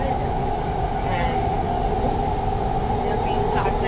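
A metro train ride with a constant loud rumble of the moving carriage and wheels on the rails, with the rolling noise continuing throughout and faint voices in the car.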